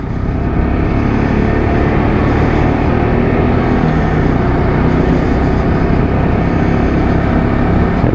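A Lexmoto LXS motorcycle rolling on the clutch in first gear at low speed, a steady, loud engine drone mixed with heavy wind rumble throughout, with no talking.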